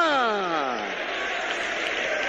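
A church congregation breaks into sustained applause, a dense wash of clapping from a crowd in a hall, with a preacher's voice briefly heard over the start.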